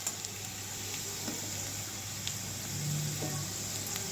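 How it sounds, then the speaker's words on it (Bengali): Sliced onions frying in a pan while cooking a small-fish chorchori, a soft steady sizzle with a few faint clicks, close and quiet without talk. "এখন পেঁয়াজটা সুন্দরভাবে ফ্রাই হয়ে গেছে"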